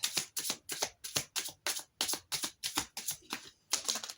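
Oracle cards being shuffled by hand, a quick run of about a dozen crisp riffling bursts in steady rhythm, close and clear with no talking.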